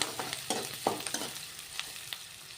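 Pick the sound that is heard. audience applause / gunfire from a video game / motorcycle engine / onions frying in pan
onions frying in pan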